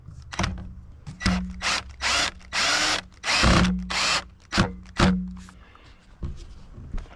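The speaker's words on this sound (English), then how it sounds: "I pre-drilled a hole so it wouldn't be so hard to put the screws in." Power drill driving screws into the wooden frame of a homemade gravity deer tube feeder, several short loud whirring bursts of varying length close up, separated by brief pauses and light handling knocks.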